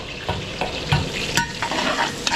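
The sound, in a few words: garlic and onion sautéing in a pan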